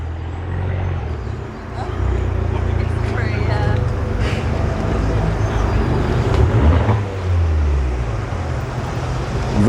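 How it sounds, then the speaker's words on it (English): Mercedes SL55 AMG V8 at a car meet, burbling low and steady at moderate distance beneath ambient outdoor noise and nearby voices. "Just hear that tiny little V8 burble. That's the 55 AMG SL55."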